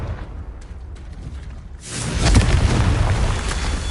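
A Confringo spell in Hogwarts Legacy bursts into a loud explosion, a sudden broad roar that swells and rumbles on for a couple of seconds after quieter game ambience.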